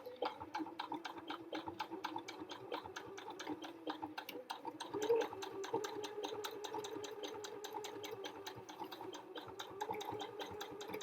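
Sewing machine stitching a multi-layer heart applique, running steadily with a fast, even needle rhythm and motor whir throughout, close and moderately loud with no talking.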